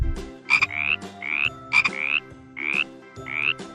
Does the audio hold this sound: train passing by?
no